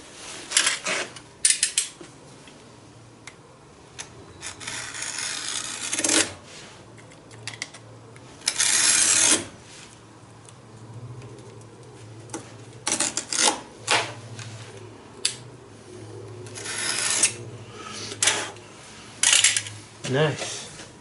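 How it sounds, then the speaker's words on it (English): Leather being cut by hand for a rawhide hammer gives irregular bursts of sharp scraping and rasping strokes, separated by quiet pauses, with occasional low talk in the background. "Let's cut some leather"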